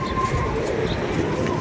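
Pigeons coo close by in a short, continuous run of low, throaty calls, with a faint background hum; no wingbeats stand out clearly.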